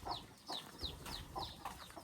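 Chickens on a rural farm with ducks and pigs give a series of short, rhythmic clucks about twice a second, faint and somewhat distant over a low background rumble.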